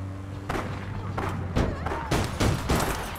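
Gunfire in the online shooter APB Reloaded, a rapid string of sharp bursts and thuds at close range over a steady low game hum.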